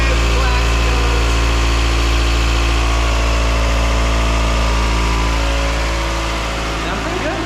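A truck engine warms up at idle, giving a loud, steady, close-up low rumble with even vibration that eases slightly near the end.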